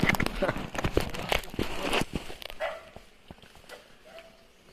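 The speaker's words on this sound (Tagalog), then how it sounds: "Kinig yung aso do." A dog barks in a series of sharp yelps near the start, with rustling and movement, fading to quieter scattered sounds toward the end.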